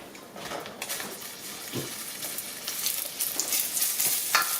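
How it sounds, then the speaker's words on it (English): Baby potatoes sizzle in hot oil with a spattering, crackling hiss that builds gradually, close to the pan, with light stirring knocks and no talking. "because we're going to fry these potatoes. So our oil is nice and hot."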